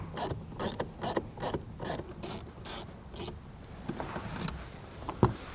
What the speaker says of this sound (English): So we're going to get a T15 Torx to remove a couple fasteners located on the bottom.